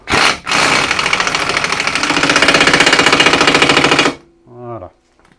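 Power tool with a socket tightens a bolt on a Chevy Captiva during a handbrake cable replacement: a loud, close, rapid rattling burst of about four seconds, then a brief voice.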